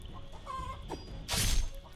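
A video-game chicken clucks in a few short, close bursts, with a louder squawk near the end over steady game background noise.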